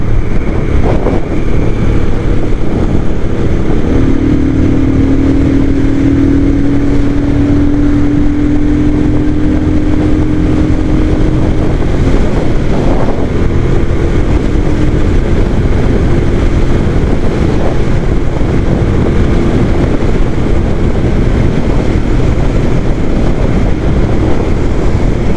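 A steady engine drone with rising tonal whine, sustained over strong rushing wind noise, as a Royal Enfield Scram 411 motorcycle accelerates at speed on a highway.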